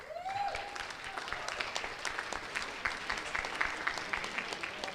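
Hackathon awards ceremony crowd applauds first-time participants, a steady wash of clapping from a sizable audience, with a brief rising whoop or whistle at the start.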